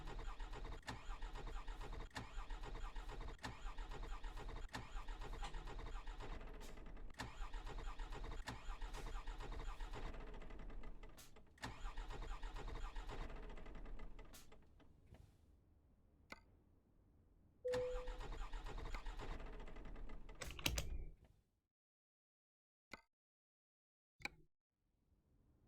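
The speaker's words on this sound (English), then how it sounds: "That engine noise sounds a bit like my truth." A car engine runs and cuts out repeatedly, with rough mid-pitched idling and turnover broken by brief stops, then sputtering bursts before falling silent near the end.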